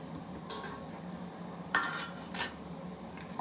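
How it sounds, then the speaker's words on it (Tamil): A spoon mixes turmeric, chili powder and salt in a metal pan, with scattered clinks and scrapes of metal on metal, close and fairly soft with two louder knocks. "ஸோ வந்து இதை வந்து நல்லா மிக்ஸ் பண்ணிக்கலாம்."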